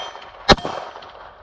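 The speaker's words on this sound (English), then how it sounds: "Let's try the gong." A gunshot strikes a steel gong target, giving one sharp metallic clang that rings briefly and fades over the next second against faint outdoor background at a shooting range.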